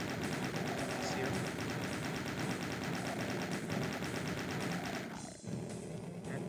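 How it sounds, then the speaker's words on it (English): A chaingun in the video game DOOM II fires in a continuous rapid stream of shots, loud and dense, before cutting off briefly near the end and resuming faintly. "chain gun is really great for this"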